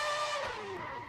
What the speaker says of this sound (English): And here are some donuts being performed.